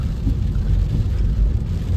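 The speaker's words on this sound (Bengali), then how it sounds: "বৃষ্টি কিন্তু অলরেডি চলছে" Rain during a road trip near Digha heard from inside a moving car, a loud, steady, low rumbling wash of rain and road noise with no talking.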